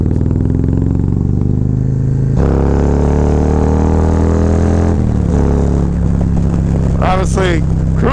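Harley-Davidson Road Glide fitted with a Feuling 465 cam accelerating hard on a highway, its deep engine note rising in steady pulls through gear changes over continuous wind rush, with brief voices near the end.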